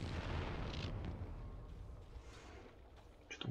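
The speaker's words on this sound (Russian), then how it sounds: "Что-то он там все взрывает." Faint explosions rumble in the Crysis 2 video game, a sustained low boom fading over a few seconds, with a short sharp pop near the end.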